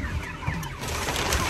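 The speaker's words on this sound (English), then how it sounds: "So here are the birds." Broiler chickens clucking out on grassland pasture, a steady low flock murmur of soft clucks and calls filling the space throughout, with no talking.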